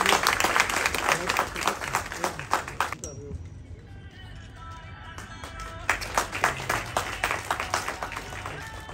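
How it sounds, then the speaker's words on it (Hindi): Loud applause from an audience at an achievement award ceremony, coming in two strong bursts of dense clapping with a quieter lull in the middle. "जरा तालियां जोरदार"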